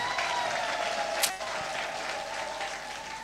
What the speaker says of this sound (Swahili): Pigia Yesu makofi mazuri kabisa.